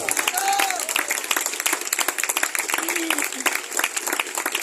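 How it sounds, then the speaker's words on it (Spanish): Sustained applause from a church congregation, dense steady clapping throughout with a few voices calling out over it. "Denle un aplauso a Dios por eso."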